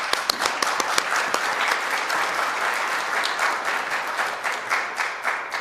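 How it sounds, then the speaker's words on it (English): An audience applauds to thank event staff at a human flourishing symposium, a dense steady wash of clapping with individual sharp claps standing out, sustained at even loudness throughout. "So let's just recognize their service by giving a round of applause."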